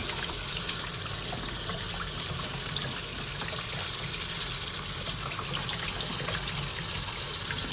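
Water pours hard and steadily over a wet plate collodion photographic plate during an aggressive rinse, giving a continuous close gushing splash like a running tap, with no talking.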